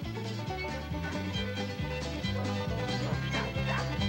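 Racing sled dogs in teams of eight or ten yip and bark in quick repeated bursts at a dog race, fairly close and steady, over a busy background.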